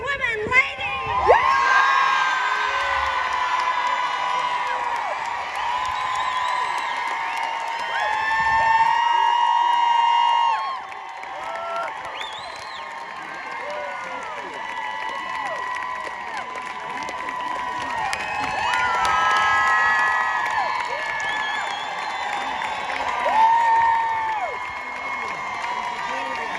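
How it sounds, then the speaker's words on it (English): A rally crowd outside New South Wales State Parliament, with women called on to cheer, lets out long loud cheers, whoops and shouts that swell and ebb, with amplified speaking mixed in. "I want all the ladies in the crowd to cheer their lungs out"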